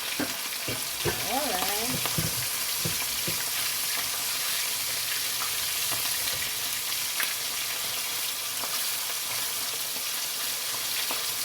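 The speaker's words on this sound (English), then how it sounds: "I'm going to put the stove on a medium heat and allow that to fry" Two large coconut-coated fish fry in a hot pot on medium heat, giving a loud, continuous sizzle throughout. A brief spoken remark comes near the start.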